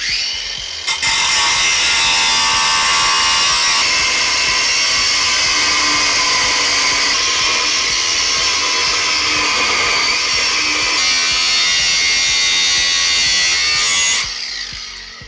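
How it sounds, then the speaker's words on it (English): An angle grinder cuts down steel bolt heads with a loud, continuous high-pitched whine and grinding screech up close, lasting about fourteen seconds before it spins down. "And we'll have to do that with an angle grinder."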